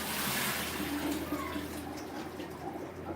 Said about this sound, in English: I'll rinse off any excess acids, anything that's on there